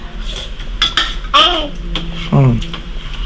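Pots and utensils clanking while misua noodles cook in a home kitchen, a few sharp metallic clinks and scrapes close by, mixed with a voice and adult speech.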